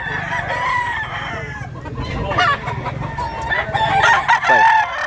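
Roosters and bullstag gamecocks at a Mantalungon, Cebu poultry market crow and cluck in a busy yard, several birds overlapping with steady background chatter and low rumble.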